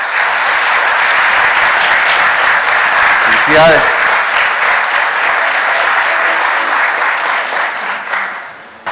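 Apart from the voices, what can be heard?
congregation applause in church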